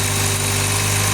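A car engine idling steadily and loudly up close with a constant low hum. The engine was reassembled without a head gasket and has a faulty throttle body causing fluctuating revs.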